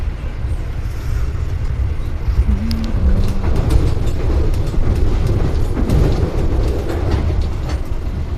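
Jayabaya premium executive train with new-generation stainless steel cars running on rails past Tanggulangin in Sidoarjo, a steady close rumble with faint clicks, wheel noise and a brief tonal squeal partway through.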